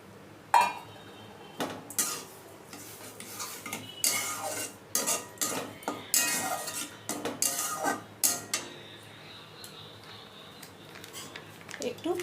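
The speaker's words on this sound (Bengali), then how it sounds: "এবার চিনিটা তরমুজের সাথে ভালো করে নেড়ে দিচ্ছে।" Spoon stirring sugar into watermelon pieces in a pan, repeated metal scrapes and clinks against the pan in uneven strokes, close, with a faint sizzle and quieter stretches toward the end.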